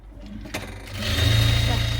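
A sewing machine stitching lace onto a nightie neckline starts up after a click and settles into a steady, close, whirring motor drone, with a voice speaking briefly over it.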